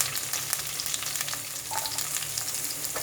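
Thinly sliced small onion and curry leaves fry in oil in a pan, giving a steady close crackling sizzle with faint scraping, no voices.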